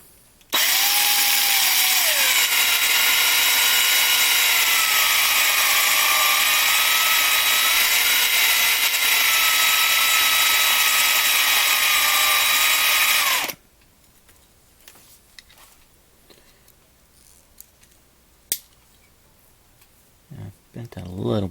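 A DeWalt 36-volt drill whines loudly and continuously up close while drilling out rivets on a 1/64-scale diecast NASCAR car, its pitch wavering slightly, then stops abruptly, followed by quiet handling clicks.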